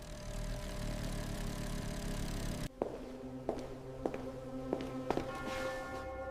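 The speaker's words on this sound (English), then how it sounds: "Now we can turn on the generator." A generator is switched on and runs with a steady low engine drone. A few sharp clicks and knocks sound over the hum after the start.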